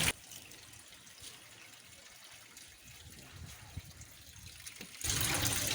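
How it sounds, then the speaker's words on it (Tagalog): Fish soup bubbling at a boil in a pot, a soft, steady watery churning that turns into a louder rushing swell near the end. "ay ayan gumukulo na siya"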